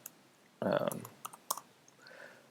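A short burst of computer keyboard typing, with a few separate clicks following, heard close up in a quiet room while entering text in the Emacs editor.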